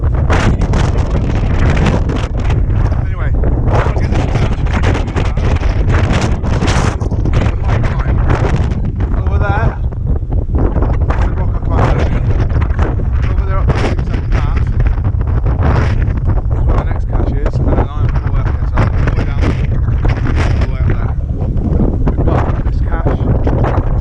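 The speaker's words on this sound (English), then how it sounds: "Hopefully the wind's died down a bit because I'm down lower." Strong gusting wind buffets a microphone outdoors on a hillside, a loud continuous low roar with rustling bursts throughout, while a person talks intermittently under it.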